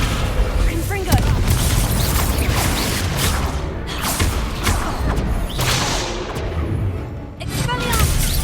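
Spell explosions in Hogwarts Legacy: repeated booms and crackling magical impacts over a busy game soundtrack, with a voice calling out spells between them.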